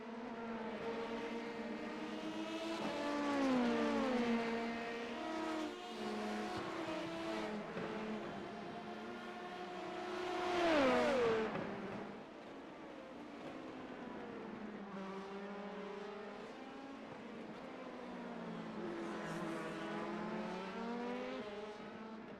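An LMP2 prototype race car engine in a racing video game wails through rising gear sweeps and sharp shifts, with a brief surge near the middle. It is loud and continuous, with no talk.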